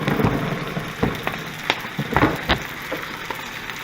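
Spaghetti frying in a pan with shrimp and bacon crackles and sizzles close by, with scattered sharp pops and scrapes over a soft frying hiss and no voices.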